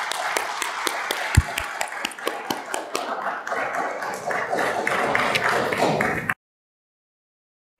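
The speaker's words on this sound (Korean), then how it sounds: "우리 다 같이 박수로 환영하겠습니다." Congregation at a Sunday church service clapping to welcome someone, a dense steady round of applause filling the room for about six seconds, then stopping abruptly.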